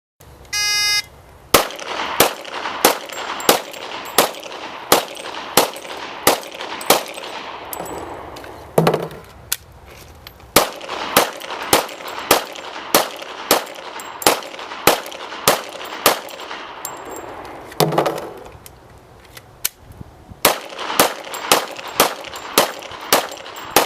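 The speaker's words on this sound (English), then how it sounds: "Now Christy will demonstrate again shooting 30 rounds, this time in 3 10-round magazines" Thirty rounds fired from three 10-round magazines, loud sharp gunshots in a steady evenly spaced rhythm, broken by two short pauses for magazine changes, with no talking.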